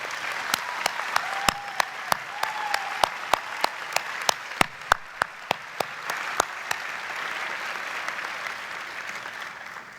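Audience at a university school of professional studies convocation applauds steadily for about seven seconds, with sharper individual claps over the crowd's clapping before it fades to a murmur of room noise.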